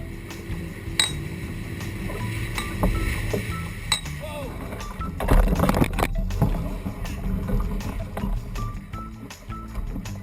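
A boat moves across open water, with a steady low rumble, scattered clinks and knocks, and a louder surge of noise near the middle under light background voices.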